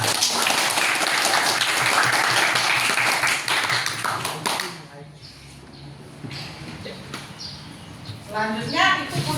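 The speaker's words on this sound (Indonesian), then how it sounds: "Beri tepuk tangan untuk Anda." Classroom applause from a group of students during a school teaching practice lesson, a dense burst of clapping lasting about five seconds, then a quieter room with scattered taps and murmuring voices.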